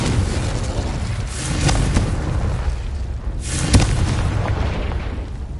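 Confringo explosion spells cast in the Hogwarts Legacy video game, giving deep booming blasts over a constant low rumble, with a sharper burst near the middle.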